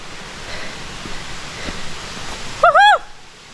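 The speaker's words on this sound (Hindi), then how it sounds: "तो गाइस फाइनली मैं पनेरी वाटरफॉल पहुंच चुका हूं।" Broadband steady rush of Panari waterfall water flowing, fairly close and continuous, with a brief bird call near the end and no speech.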